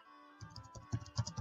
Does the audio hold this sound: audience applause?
no